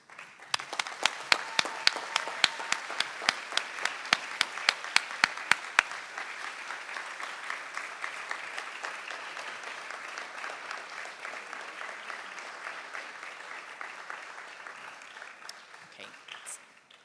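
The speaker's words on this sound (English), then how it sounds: "I would like you to stand up, face them, and give them a round of applause" A large crowd at an optometry college white coat ceremony stands and applauds for a long stretch, sharp individual claps up front giving way to a sustained wash of clapping that gradually tapers off.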